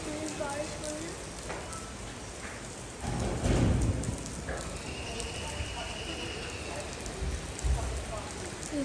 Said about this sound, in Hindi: तेज बारिश हो रही है.